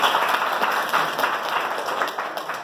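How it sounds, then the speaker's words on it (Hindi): An audience at a talk claps energetically, a loud, close, dense burst of applause with distinct individual claps that eases slightly toward the end. "ताली बजाए"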